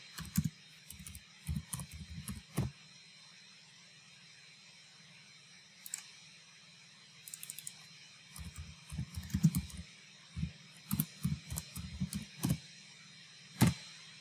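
Clicking keystrokes on a computer keyboard, typed in short irregular bursts with pauses between them, close and fairly quiet, with no voices.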